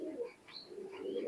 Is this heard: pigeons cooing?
yes